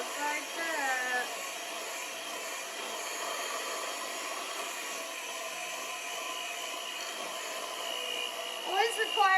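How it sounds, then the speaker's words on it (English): Electric mixer whirring steadily through chocolate bonbon cake batter, a continuous broadband motor drone held at even loudness for the whole stretch, with a brief knock and clatter near the end. "we're gonna mix this up. I did not clean the mixer, but it doesn't matter."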